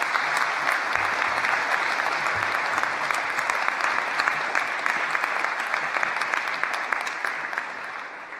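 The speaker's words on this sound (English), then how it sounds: "A round of applause." A graduation audience gives a sustained round of applause for the graduates' friends and family, with dense, steady clapping from a large crowd filling the room at even loudness throughout.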